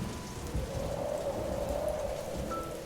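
Heavy rain pours steadily in a storm, a dense hiss of drops hitting surfaces with a low rumble of thunder beneath, continuous and fairly loud with no voices.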